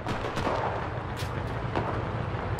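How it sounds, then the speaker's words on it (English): Artillery fire in the WWII shooter Enlisted rumbles as a dense, continuous wall of battlefield noise, with several sharper cracking bursts rising out of the steady roar. "artillery! Fire at the square!"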